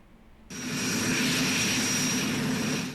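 A rescue helicopter at a Morocco earthquake site starts abruptly after a quiet moment, a loud steady roar of rotor and engine with a whining tone sustained to the end.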